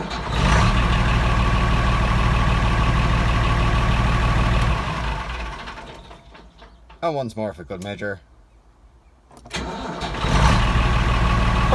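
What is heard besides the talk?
tractor engine starting after starter motor repair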